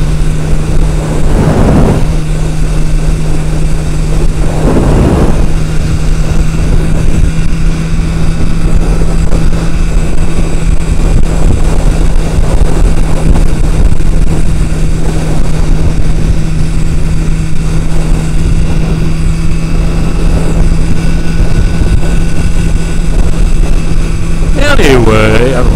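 Steady roaring wind buffeting a rider on a motorcycle cruising down a highway, loud and constant with a droning engine hum underneath.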